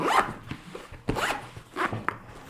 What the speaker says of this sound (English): Zip it up, there you go.